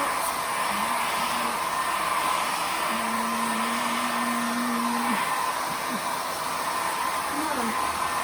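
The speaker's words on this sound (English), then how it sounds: "Get the hair dryer out." A hair dryer drying paint on artwork blows with a steady, loud whooshing roar that runs without a break, while a faint tone wavers in and out beneath it.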